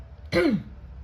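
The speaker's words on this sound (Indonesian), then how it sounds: "Sorry teman-teman, batuk." A single short cough, close and fairly loud, over quiet background hum.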